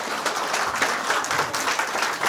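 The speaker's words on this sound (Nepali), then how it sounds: "हुन्छ हामी ताली बजाएर उहाँहरूलाई" Wedding guests applaud the couple with a dense, continuous patter of clapping hands that holds steady for the whole moment, moderately close.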